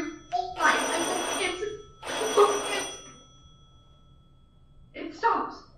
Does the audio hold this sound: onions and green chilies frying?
no